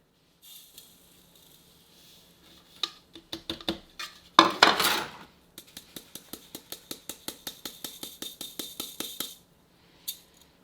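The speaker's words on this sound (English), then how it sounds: "Now we're going to run everything, get the lead out of here. We're going to run everything through our 20 mesh." Black sand gold concentrate being sifted through a 20 mesh screen in a pan, giving a run of sharp, rhythmic metallic scraping and tapping strikes that quicken into a steady series, with one louder rasping burst partway through; no talking.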